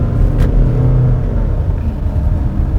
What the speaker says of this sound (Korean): 배기음을 키워주는 드라이브 모드를 스포츠로 바꿨을 때라도 좀 더 키웠으면 좋겠다